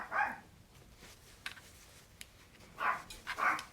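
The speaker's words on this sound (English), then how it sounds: "And go let the dog out." A dog barking indoors in a home sewing room, a few short separate barks at the start and again near the end, fairly faint and at a distance.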